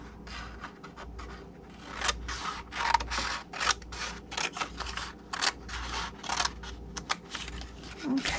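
Scissors cutting patterned paper along a score line to make a Halloween treat box, with a string of short crisp snips and rustles heard up close, some in quick pairs.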